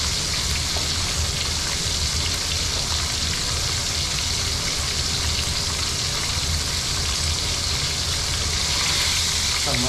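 Tomato and garlic sizzle and crackle steadily in hot oil, a dense continuous frying hiss with no talking.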